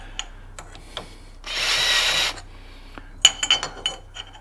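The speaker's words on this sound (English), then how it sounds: "These countersinks that just have a single hole at an angle through them work really well for just for doing a little bit of deburring and a chamfer." A single-hole countersink cuts a brief chamfer to deburr a drilled hole, a short gritty whirring scrape lasting under a second, followed by light metallic clinks and taps.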